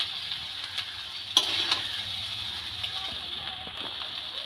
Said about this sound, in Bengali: এবার জাস্ট এটাকে খুন্তি দিয়ে নাড়িয়ে দিলেই হবে।